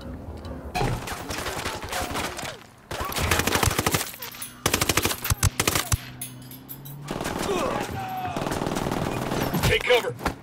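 Gunfire in the video game Ghost Recon Wildlands: loud bursts of automatic fire and single shots in rapid succession, with pauses between volleys and voices speaking in places.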